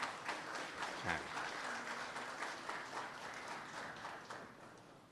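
A crowd at an aviation honours ceremony claps steadily in dense, sustained applause that fills the room at an even level throughout.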